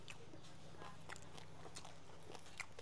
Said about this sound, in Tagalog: Unang kagat, balat agad.